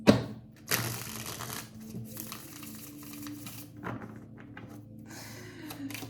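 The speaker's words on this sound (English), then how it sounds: "Shuffling for Pisces." Tarot cards are shuffled by hand during a reading for the signs: soft, continuous papery riffling and sliding of the deck, close up, with a few sharper slaps and no talking.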